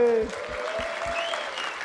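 Brief applause from a conference audience at a direct primary care session, a short burst of clapping heard with voices and tonal sound over it.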